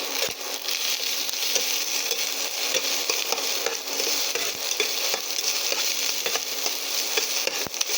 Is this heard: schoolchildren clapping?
no